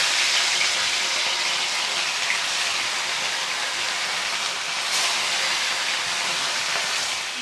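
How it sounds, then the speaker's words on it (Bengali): Pieces of rohu fish frying in hot oil, a loud, steady, close hiss that stays even for several seconds with no talking. "তেলটা গরম হয়ে গেছে, এবার আমি এর মধ্যে দিয়ে দেবো মাছগুলো।"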